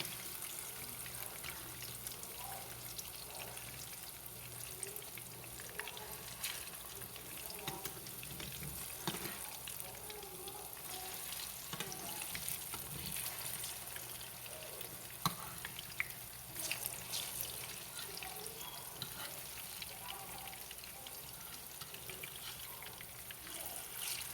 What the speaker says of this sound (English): These bananas, we gonna flip these babies over. See how fast they cooking already?